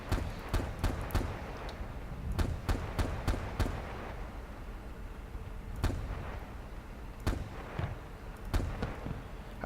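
A BTR armoured vehicle's cannon firing in the video game Arma, sharp booming shots in quick bursts of three or four with pauses between, over a low engine rumble.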